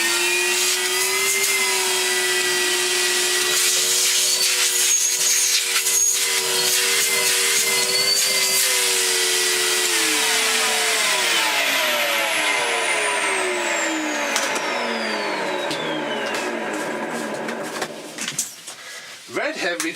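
A Numatic Henry vacuum cleaner under repair runs with a steady whining motor hum that holds, then drops in pitch as it winds down, with speech heard over it.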